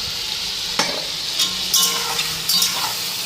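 Onions and spices fry in a hot pan with a steady sizzle, while a spoon scrapes and stirs through it several times in irregular strokes. Nobody speaks.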